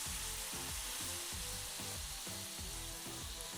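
Onions, bacon and mushrooms fry in a pan with a loud, continuous sizzle and a steady rhythmic clatter of stirring, heard close and with no talking.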